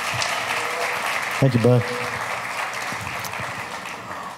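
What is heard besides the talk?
audience applause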